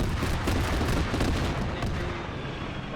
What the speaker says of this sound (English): You're hearing that auto cannon going off.